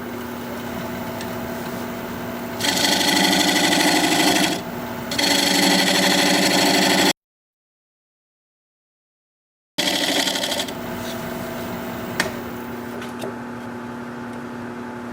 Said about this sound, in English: I'm going to use this diamond point tool to square up the sides of the tenon.